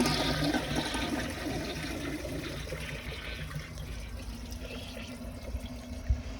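An American Standard Cadet pressure-assist toilet flushes with a loud, forceful rush of water that holds steady, then eases into a softer trickle and refill, with one small knock near the end.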